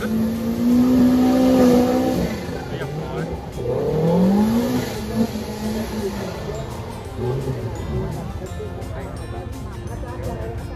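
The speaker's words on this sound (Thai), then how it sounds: "เสียงแผดของเครื่องยนต์นะครับ" An off-road race car engine roars and revs at a grand prix off-road competition in Bo Phloi, Kanchanaburi, loud and close with rising and falling pitch sweeps, under an announcer's talk.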